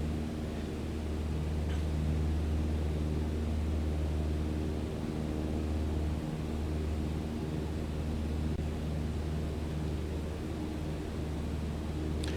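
A Cessna 152 light aircraft engine drones steadily in cruise flight in Microsoft Flight Simulator 2020, a continuous close-up propeller hum with no pauses and no voices.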